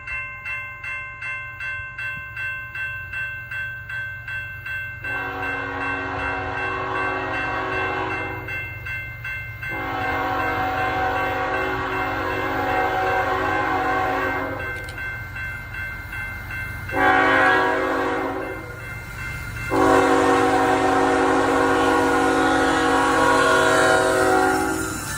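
A CSX freight train rolls past on the Cumberland Subdivision with a rhythmic clatter, then sounds a loud multi-chime horn in several long blasts separated by short gaps.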